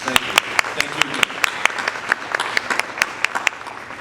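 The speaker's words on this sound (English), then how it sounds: "So let's give a round of applause to all of our sponsors" Audience applause for event sponsors at a pandemic tribute gathering, a dense patter of many hands clapping at moderate volume, steady throughout with sharper individual claps standing out, no talking over it.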